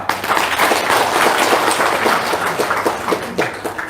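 Audience applause at a testimonial talk about paying off debts, a dense steady patter of many hands clapping for several seconds at close range, with no talk over it.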